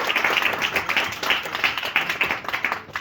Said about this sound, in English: But if everybody could give a big round of applause to Vika, just real loud.